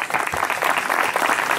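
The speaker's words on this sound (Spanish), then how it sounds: "Fuerte el aplauso para nuestro presidente Roberto Giacuzzi." Enthusiastic applause from a crowd, dense clapping sustained throughout at fairly loud level.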